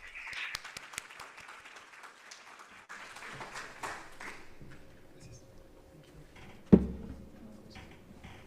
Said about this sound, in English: Let's welcome Mr. Benson with a warm round of applause.